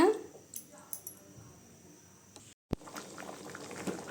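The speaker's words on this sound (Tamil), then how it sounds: "குழம்பு நல்லா கொதிக்கட்டுங்க" Soft bubbling of a pot of potato curry simmering, with faint pops and gurgles under quiet background noise, briefly interrupted by a sharp cut.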